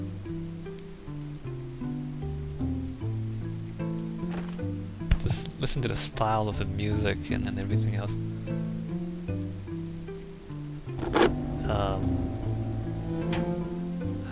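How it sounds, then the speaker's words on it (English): Rain falling in the video game Braid, a soft continuous patter beneath background music, with someone talking over it. "It's raining harder now too. Look, you can hear the rain."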